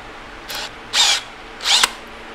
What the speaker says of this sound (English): I'm going to drill a pilot hole before the step bit.